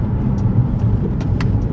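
A Nissan 350Z driving along, its intake and engine giving a steady, loud low drone with faint ticking sounds over it.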